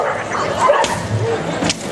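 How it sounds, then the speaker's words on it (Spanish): A police dog gives a few quick barks and yips during a handler demonstration in a park, with a decoy acting as a problem person, while people talk nearby. "¡Viene el perro ahí!"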